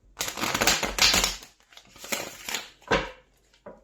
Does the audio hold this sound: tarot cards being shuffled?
yes